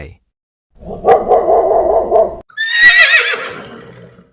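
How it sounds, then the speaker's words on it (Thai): Several dogs bark in a steady cluster, then a horse lets out a loud, quavering neigh that trails off. "ตามมาด้วยเสียงสุนัขเห่าและม้าก็ส่งเสียงร้อง"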